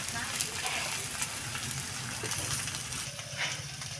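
Eggplant pieces, both pale and dark-skinned varieties, frying in oil in a pan, giving a steady, close, bright sizzle with faint crackles throughout and no speech.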